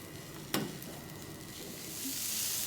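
Green peppers, corn and chirimen jako stir-fry in an oiled frying pan with a quiet sizzle, a single sharp utensil clack near the start and the frying swelling slightly toward the end.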